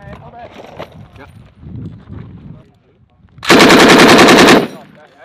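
A loud, rapid burst of machine gun fire lasts about a second, following softer talk and movement sounds. It comes in a setting tied to Minnesota Air National Guard security forces training.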